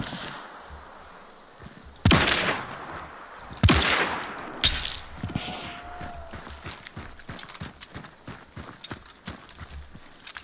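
Gunshots in the multiplayer shooter Hunt: Showdown: two loud, sharp blasts a couple of seconds apart, then a third weaker report, followed by quieter clicking and footstep-like game noises.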